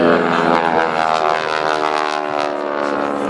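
A Stearman biplane's propeller engine drones steadily and loudly with a rich harmonic hum, holding a constant pitch throughout as it flies close by during an airshow aileron roll.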